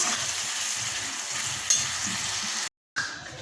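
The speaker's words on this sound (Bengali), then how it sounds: "সামান্য একটু জল দিয়ে মশলাটা কষাচ্ছি" Spices sizzle steadily in a pan with chilli powder, turmeric powder and a splash of water, a close, even frying hiss that cuts out briefly near the end, with no talking.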